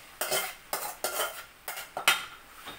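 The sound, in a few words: marinated mutton added and stirred into fried onions, sizzling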